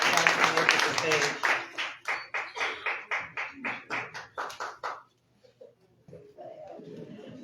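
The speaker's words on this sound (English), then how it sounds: "can y'all please give our candidates a round of applause?" Audience at a Dallas Examiner Monday Night Politics event applauding the candidates with steady rhythmic clapping for about five seconds, then falling nearly silent before quiet room noise returns.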